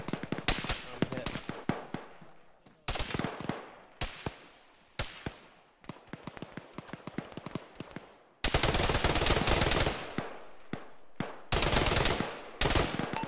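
Sustained bursts of automatic gunfire in an Arma military game session, heavy volleys crackling from the west, loud and close, in irregular bursts with short gaps, with team voice chat between them.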